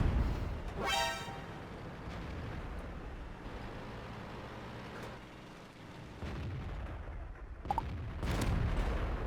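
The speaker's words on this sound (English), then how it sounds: "Beautiful shot into the Jagdpanzer E100's lower plate, killing him" A tank cannon fires in World of Tanks, a sharp blast with a short bright crack, followed by steady engine rumble, battle noise and a couple of later impacts.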